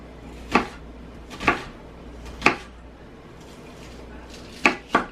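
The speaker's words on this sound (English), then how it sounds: "turn it over on the flat side, slice it into thin pieces" A kitchen knife slicing an onion into thin pieces on a cutting board, producing five distinct knocks against the board at an uneven pace, close and fairly crisp, over quiet room noise.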